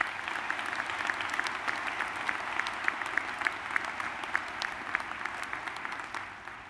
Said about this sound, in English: Let's give a round of applause to the new president